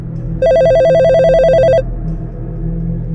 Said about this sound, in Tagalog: biglang tumunog ang telepono sa loob. Mahaba, malinaw at sunod-sunod ang ring